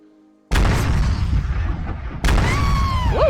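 A video game cannon fires with a heavy boom, followed by a second loud blast with a long rumbling tail, both close and loud with no talk over them.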